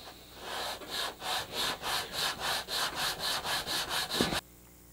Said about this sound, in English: I'm going to switch over to our sanding block.